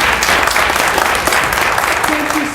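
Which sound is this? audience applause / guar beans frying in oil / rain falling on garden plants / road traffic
audience applause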